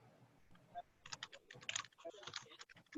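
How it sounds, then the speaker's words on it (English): Typing on a computer keyboard during an online Q&A session: irregular bursts of close, crisp key clicks that grow busier midway, with faint background rumble and no speech. "Oh, I hear typing."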